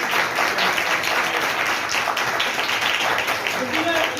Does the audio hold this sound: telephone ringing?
no